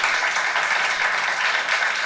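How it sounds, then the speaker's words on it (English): An audience at a stress-relief talk breaks into applause, a dense, even wash of many hands clapping together, loud and close, holding steady without pause. "give him a big round of applause"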